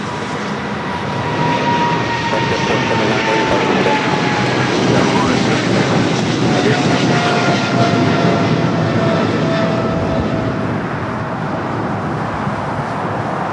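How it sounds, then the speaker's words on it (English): A China Southern Cargo Boeing 777 freighter rolls down runway 25L at LAX for takeoff, its loud, steady jet roar filling the air for the whole stretch and swelling slightly mid-run. "We have a China Southern Cargo 777 now rolling down"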